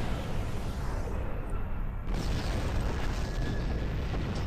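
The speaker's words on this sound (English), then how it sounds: "Ooh, they explode blue." Ships blowing up in Star Trek Online, a dense, sustained roar of booming explosions that fills the whole clip with a steady rumbling wash and no talk.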